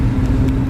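A 1952 Ford Crestline Victoria two-door coupe drives along, its engine a loud, steady low rumble heard from inside or close by, with no talking.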